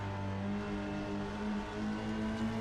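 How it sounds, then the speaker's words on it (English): TCR touring race car engine revving hard as it climbs the uphill section at Watkins Glen in a sim racing game, a steady loud droning note with a slight oscillating waver throughout. "you can actually hear the oscillation of the engine there, just going through up that hill"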